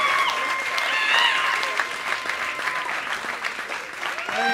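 Audience at a comedy show applauding loudly and steadily, with cheers and whoops mixed into the clapping and a voice briefly audible near the end.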